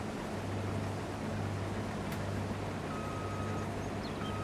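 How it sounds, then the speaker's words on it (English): A combine harvester engine in the Farming Simulator game drones in a steady, loud low rumble, with a continuous hum and broadband mechanical noise running unbroken throughout. "once you get into a harvester, any kind of harvester, it's loud"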